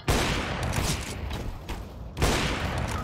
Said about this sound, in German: Ich hab links Schüsse gehört.